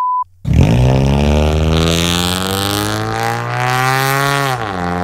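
A loud straight-piped car exhaust starts up after a short silence, then holds a strong, raspy revving drone with rising harmonics that dips slightly near the end, close and alone.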